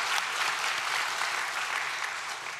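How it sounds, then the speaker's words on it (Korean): A church congregation claps together in sustained, even applause, fairly loud and continuous from start to finish. "박수 쳐드릴게요."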